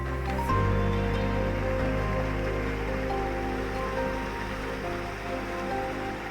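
Treated water from a discharge permit outfall pours steadily into Muddy Creek, a constant close rushing splash with faint tonal hum underneath and no speech.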